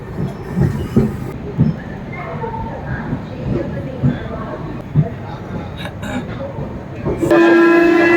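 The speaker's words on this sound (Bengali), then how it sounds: "শিয়ালদা থেকে 133 কিলোমিটার পাড়ি দিয়ে এই মুহূর্তে আমরা চলে আসলাম খড়গপুর জংশনে" The Sealdah Puri Duronto Express rolls into Kharagpur Junction with a rumbling rattle of carriages and periodic wheel clunks, closing with a steady high tone, while people talk nearby.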